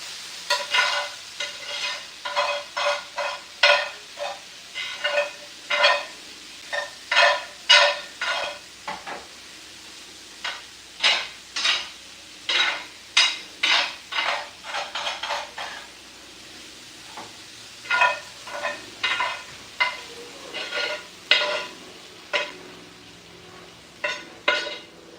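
Onions frying in a pan while being stirred, with repeated rhythmic scraping and sizzling strokes in bursts of about a second, close and fairly loud over a quiet background.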